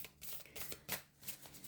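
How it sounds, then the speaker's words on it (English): A deck of oddly shaped cards being shuffled, giving a few soft riffling bursts and papery rustles up close, with no talking over them. "the cards are shaped like this, so it's very difficult to shuffle"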